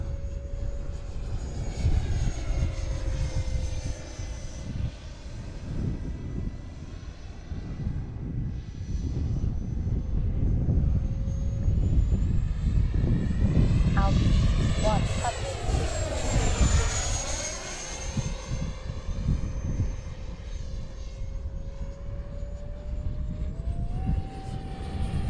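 A Freewing Cougar RC plane's electric ducted fan engine roars at wide open throttle, a loud sustained whine rising and falling as the plane passes overhead with a Doppler sweep, with occasional talk underneath.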